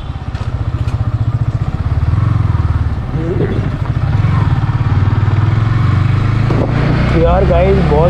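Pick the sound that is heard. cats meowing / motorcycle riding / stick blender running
motorcycle riding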